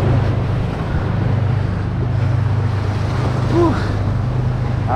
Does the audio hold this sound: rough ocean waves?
yes